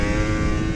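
A racing motorcycle accelerating hard out of a corner on a circuit, a loud, close, steady engine roar with dense mechanical buzz filling the whole short moment.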